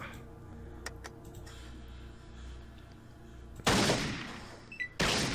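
Gunshots in the original Fallout game: a few faint ticks at first, then two loud, harsh bursts of fire close together near the end, with no one talking.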